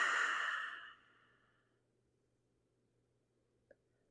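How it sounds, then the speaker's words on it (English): A single breath pushed out through the mouth during a yoga flow for tight hips, a close soft whoosh that fades within about a second and leaves near silence with one tiny click. "And exhale out your mouth."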